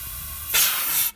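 Air from a rubber-tipped hose pressurizing a blocked-off system on a 1988 Porsche 944, a single loud, close hiss lasting about half a second before cutting off abruptly.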